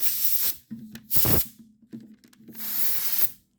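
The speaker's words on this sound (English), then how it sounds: "I'm going to hit it with a little bit of air" Three sharp bursts of compressed air blowing to clean a feeler gauge during a Fender FA-235E guitar setup, loud and close, with a quiet low hum between bursts.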